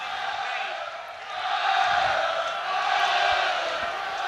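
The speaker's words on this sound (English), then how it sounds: "the Connacht crowd roaring their team on here" A rugby crowd of Connacht supporters roars and cheers their team on near the try line against Glasgow, a broad sustained swell of voices that surges louder midway and stays strong, heard from a distance across the stadium.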